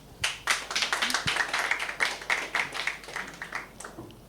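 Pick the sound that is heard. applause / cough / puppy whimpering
applause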